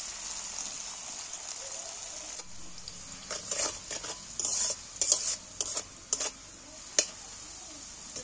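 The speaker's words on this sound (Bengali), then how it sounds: "গাজরগুলো আমি একইভাবে ওই রকমই ভেজে নেব হালকা করে" Carrot pieces fry gently in a pan over low heat, a soft steady sizzle with a run of scraping stirs and light clinks of a spatula against the pan in the second half, and no talking.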